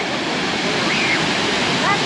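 Orkhon waterfall in Mongolia during the rainy season roars as a loud, dense, continuous rush of falling water, close and unbroken throughout.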